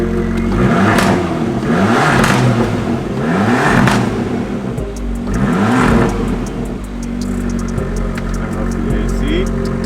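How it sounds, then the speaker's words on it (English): Small Abarth 595 hatchback engine given a few short, gentle revs, rising and falling in repeated bursts over a steady idle, close and fairly loud, with a voice talking over part of it. "Let's give it some baby revs."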